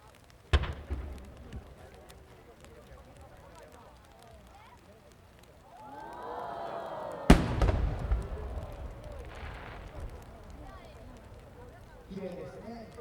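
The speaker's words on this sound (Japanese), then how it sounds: "こちら15玉、一尺玉の花火で八重芯をしていただきたいと思います。" One-shaku (15-go) yaeshin chrysanthemum firework shells at a fireworks expo in Nishikinohama, Osaka: a sharp launch thump, then a heavy, booming burst with rumbling crackle and echo in the open air, with a crowd murmuring around.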